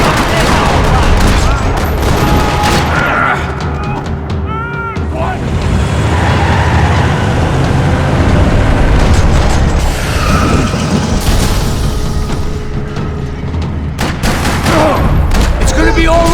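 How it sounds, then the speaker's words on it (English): Dense gunfire fills a parking lot in the Max Payne 3 video game, with rapid bursts and booming impacts sustained loudly throughout, layered with mechanical clatter. "Another parking lot rattling with gunfire."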